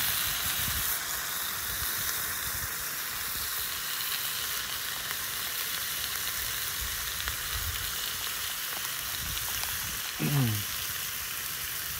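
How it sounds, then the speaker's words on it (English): Steady, dense sizzling of bacon frying in a pan, a continuous crackling hiss with a brief low squeak near the end. "Let's see how the bacon responds. The sizzle."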